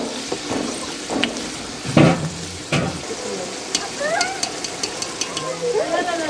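Curry frying in a pan while being stirred, with a steady sizzle under scraping and clattering spoon strokes, close by, with voices of people talking in the background.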